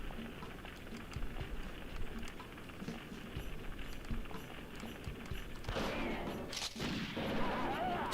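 Shotgun fire in Super Smash Bros Ultimate comes as a rattle of sharp blasts over busy game noise, with a louder cluster of shots near the end.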